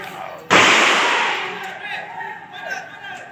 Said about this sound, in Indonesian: polisi terpaksa melepaskan tembakan peringatan berulang kali untuk membubarkan